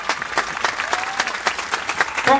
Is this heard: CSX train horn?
no